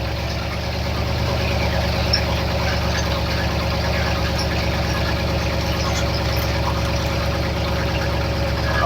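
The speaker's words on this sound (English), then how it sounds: "I'll show you the Holley firing up" A Ford F100 truck engine fitted with Holley Sniper fuel injection idles steadily up close after a cold start, a constant low rumble with no talking.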